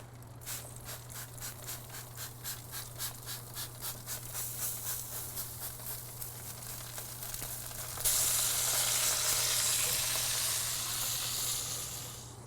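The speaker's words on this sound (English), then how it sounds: "I'm going to go ahead and mist it with a little bit of that unsalted beef broth" Brisket on a ceramic grill, misted with unsalted beef broth, giving a faint hiss and sizzle with quick rhythmic spray pulses, then a steadier, louder hiss that fades.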